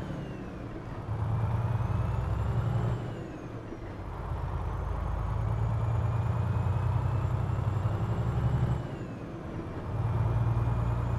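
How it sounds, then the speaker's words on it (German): A truck engine in Euro Truck Simulator 2 drones steadily, its low rumble rising and falling as it revs through gear changes, loud and continuous. "Ich hoffe ja mal, dass der LKW-Sound auch so passt."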